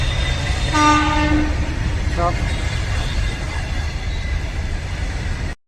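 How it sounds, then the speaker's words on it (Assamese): A train approaches at Kamakhya railway junction with a steady low rumble and a short horn blast near the start, then a brief second tone, all fairly loud and continuous. "আৰু এটা ট্ৰেইন আহি আছে"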